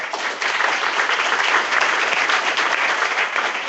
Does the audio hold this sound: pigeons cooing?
no